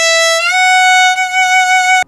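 A single held violin note sounds close and clear, stepping up slightly in pitch before cutting off abruptly.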